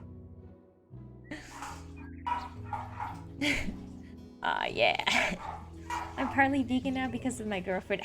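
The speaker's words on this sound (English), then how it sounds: "Sorry about the dog barking" A pet dog barks and yips in short bursts against game background music while a person talks close by.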